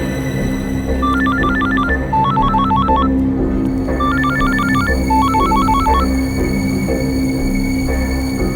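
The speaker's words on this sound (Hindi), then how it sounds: "फोन क्यों नहीं उठा रहा है?" A telephone rings in repeated electronic trills, bursts of warbling tones with short pauses between them, loud and close over a steady background hum.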